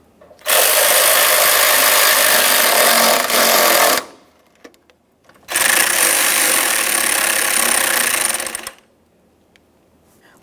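A power tool snugs up the headlight mounting hardware on an Acura MDX in two loud, close bursts of buzzing, whirring drive lasting several seconds each, separated by a brief quiet pause.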